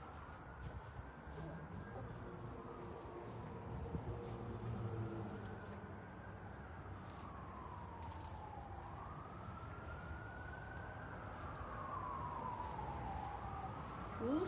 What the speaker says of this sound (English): Ooh, sirens. This is good for you guys to hear.